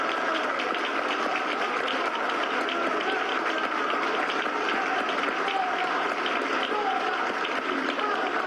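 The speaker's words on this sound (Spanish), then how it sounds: "Voy a aplaudir también." Sustained applause from an assembly hall crowd at Venezuela's National Constituent Assembly, steady dense clapping with a crowd murmur throughout, loud and continuous for the whole stretch.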